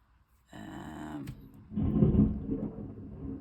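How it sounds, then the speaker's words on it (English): Thunder rumbling ahead of heavy rain, a low rolling growl that swells after a faint crackle and lingers, fairly distant and steady. "apparently there is thunder going on just as I start to film."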